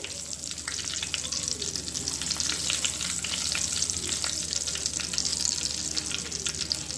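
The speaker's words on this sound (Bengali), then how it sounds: "এবার আমি এর মধ্যে দেব জিরে, ফোড়নে দেব জিরে" Cumin seeds crackle and sizzle in hot oil for tempering, a dense, steady frying hiss with fine popping throughout, close and fairly loud.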